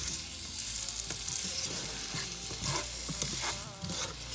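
Brown sugar glazed carrots being stirred in a hot pan, a bright steady sizzle broken by soft scraping and clicking of the utensil, close up with no voices.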